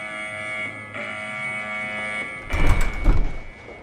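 A steady electronic alarm buzzer drones in a mental asylum setting, then a louder, rough burst of commotion cuts in partway through.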